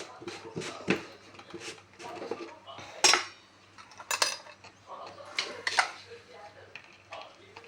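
A spoon mixes chili powder and salt in a bowl for a fasting crisp snack, giving a series of light, irregular metallic clinks and scrapes at close range, with a person talking throughout.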